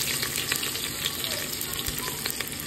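Onions fry in hot oil tempered with whole cinnamon, cloves, cardamom and cumin at a Kolkata street food kitchen, making a dense, even sizzle with crackling pops, close and steady.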